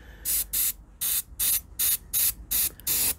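An airbrush sprays thinned gold paint in eight short, even hissing bursts with brief gaps between them, close and steady.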